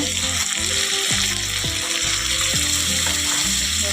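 Ground spices and a splash of water sauté in a pan for a Bengali green jackfruit curry cooked goat-style with potatoes, giving a loud, steady sizzle and bubbling with occasional stirring scrapes.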